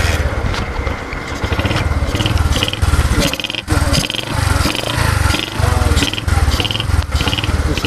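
A Bajaj CT100 motorcycle with about 23,000 km on it, due for decarbonizing, idles and revs nearby in a steady low engine drone with rhythmic pulsing, swelling a little at times.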